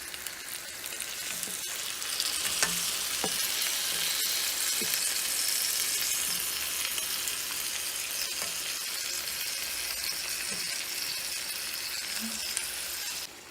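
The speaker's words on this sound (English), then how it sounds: "let's go ahead and just add our greens in here" Collard greens stir-frying in a pan for a chicken dish give a steady, loud, close sizzle throughout, with scattered clinks and scrapes of stirring.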